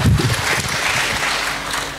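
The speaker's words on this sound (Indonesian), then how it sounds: "Ya, tepuk tangan untuk kita semuanya." An audience at a political discussion event claps for a few seconds, a moderate, fairly close round of applause that tapers off, with no talking.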